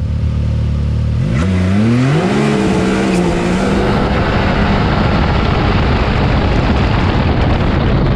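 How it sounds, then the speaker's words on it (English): A tuned Stage 5 Mitsubishi Evo with an X85 turbo launches on the road, its engine revving hard with rising gear-like pitch sweeps while the tires spin and roar in a loud, continuous rush that carries on after the pull. "He's roasting those tires bad."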